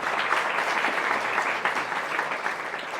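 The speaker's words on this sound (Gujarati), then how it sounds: "આપણે સંત સ્વામીની તાળીઓના નાદથી વધાવો બધા." An audience at a Swaminarayan temple festival gathering claps for a saint, producing dense, steady applause that holds at an even level for the whole stretch.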